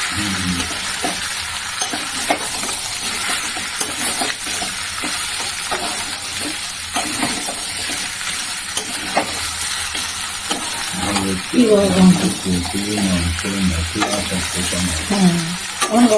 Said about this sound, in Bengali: পেঁপেটা তো হালকা ভেজেও দিয়েছি আলুর সাথে